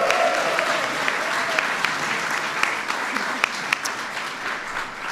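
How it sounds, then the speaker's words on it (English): Audience applause at an LGBT Pride Month reception hosted by the president, a dense, steady wash of clapping with a few sharper claps standing out, and some faint voices mixed in beneath it. "Please give Tobias a big round of applause."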